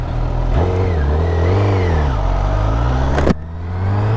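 A Honda CBR 1000RR sportbike engine revs loudly up close, climbing and falling in pitch, then cuts sharply back to a steady idle hum.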